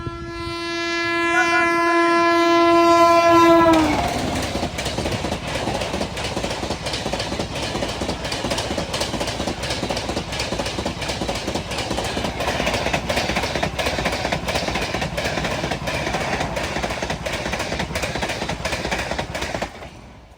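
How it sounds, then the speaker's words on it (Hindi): Sealdah Rajdhani Express (train 12313) blasting a loud, sustained multi-tone horn for about four seconds, followed by the steady roar and rumble of coaches rushing past close by until the end. "सामने से आ रही है ट्रेन नंबर 12313, सियालदा राजधानी एक्सप्रेस"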